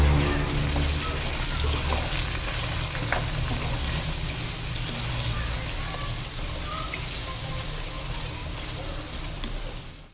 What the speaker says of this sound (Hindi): इसको भी भून लेंगे चिकन के साथ अदरक लहसुन को थोड़ा